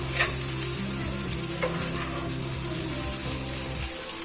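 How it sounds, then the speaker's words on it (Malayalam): Masala with garam masala sizzles steadily in a frying pan on a gas stove while a spoon stirs and scrapes it, a faint, continuous fry with light clicks and no speech. "ഇനി ഒന്നും കൂടെ ഒന്ന് മിക്സ് ചെയ്ത് കൊടുക്കാം"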